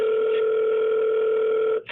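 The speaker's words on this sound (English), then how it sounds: "Get Elon on the phone" A telephone rings with one long, steady electronic tone, loud and close, that cuts off abruptly near the end.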